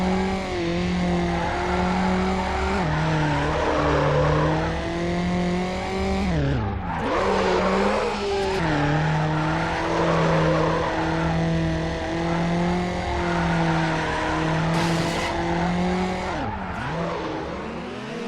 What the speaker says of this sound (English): There's drift, which is on a small circuit where you must get the biggest and longest drifts to hit the highest score.